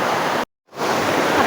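A strongly flowing village stream, a steady broadband rush of water, close and fairly loud, broken by a brief cut to silence before resuming.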